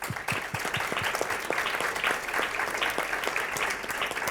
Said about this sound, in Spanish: que se merecen definitivamente un aplauso enorme